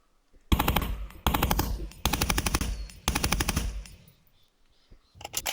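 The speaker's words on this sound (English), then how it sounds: "show them how to fire your rifle and how to reload" A rifle fired by a soldier during basic training in four rapid short bursts of automatic fire, loud and close, separated by brief pauses, then a final burst starting at the end.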